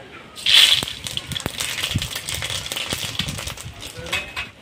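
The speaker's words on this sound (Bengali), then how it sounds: "আমি এখন টক রান্নার জন্য সর্ষে দেব, শুকনো লঙ্কা একবারে ফোড়ন দেব" Mustard seeds and dried red chilli tempering in hot oil in a karai, a loud burst of sizzle followed by rapid crackling pops and spitting clicks that continue throughout.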